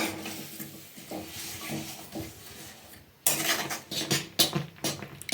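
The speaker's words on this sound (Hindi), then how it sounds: "अब इसे लगातार चलाते हुए इसे मेल्ट होने देना है हमें" Melting jaggery being stirred in a pan, with soft scraping and knocks of a spoon against the metal that grow louder and busier in the second half, and no talk.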